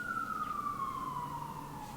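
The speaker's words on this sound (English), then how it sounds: "sorry, there's like sirens." A single siren wails steadily from a distance in New York City, its pitch slowly falling, over faint background hum.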